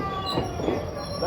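A special Valankanni feast train departing from Vasco rumbles steadily with wheel squeals and rolling rail noise, and faint voices mix in beneath it.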